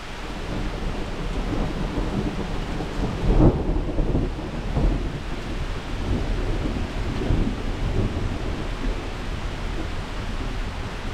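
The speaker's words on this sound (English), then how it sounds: "This is the rain that was supposed to come like 3 hours ago." A thunderstorm soaks an abandoned shack with steady, loud rain, and thunder rumbles and cracks a few times close by, with no voices.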